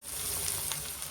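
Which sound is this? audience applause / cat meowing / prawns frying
prawns frying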